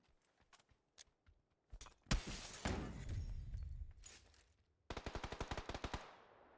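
Rapid gunfire bursts in a competitive online shooter match, with scattered single shots, a loud central blast and a sustained roar, then a tight burst of about a dozen automatic rounds, all close and loud with no talk over it.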